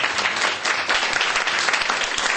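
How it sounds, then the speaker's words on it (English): A big round of applause from the audience at a book launch, loud and continuous with many hands clapping densely throughout. "ladies and gentlemen, can we give a big round of applause?"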